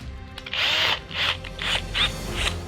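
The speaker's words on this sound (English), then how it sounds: "Just an 8mm normal steel drill" A power drill with an 8mm steel bit whines in several short bursts as it bites into material, loud and close, with brief pauses between runs.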